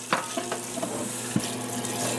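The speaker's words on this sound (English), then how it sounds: "turn on the hot water, give it a quick spritzing" Hot tap water spraying onto a cast iron skillet in a sink during cleaning and re-seasoning, a steady loud rushing with a few splashy knocks, close and without talking.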